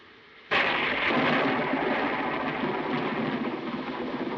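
Thunder from a storm breaks in a sudden loud crack, then rolls into a long, heavy rumble that slowly fades. A quieter background comes before the crack.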